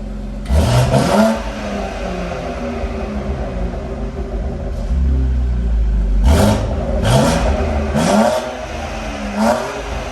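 BMW X3M engine in Sport Plus mode, revved in several separate pulls, each rising sharply then dropping back to a steady idle rumble; loud and close with no talking.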